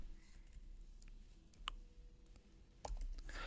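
Typing on a computer keyboard, a few sparse quiet key clicks spaced irregularly over a few seconds against a faint room hiss.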